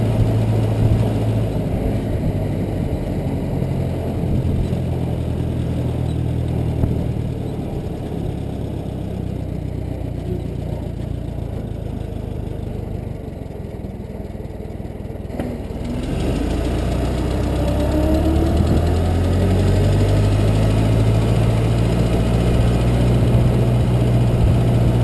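A 1922 Ford Model T engine runs loud and steady as the car shifts into high gear on a back road, a continuous rumbling drone that dips briefly in the middle, then rises and settles again.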